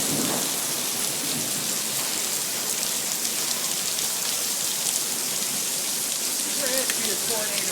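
Heavy thunderstorm near Johnson City, New York, with dense loud rain pounding steadily on surfaces and thunder rumbling beneath it throughout, no voices heard.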